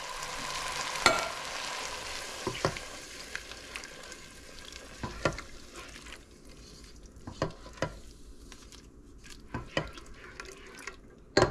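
Canned petite diced tomatoes, a 14.5-ounce can, tipped into a pan where chicken pasta is cooking, giving a wet sizzle with soft stirring, drips and scattered clicks of a utensil at close range.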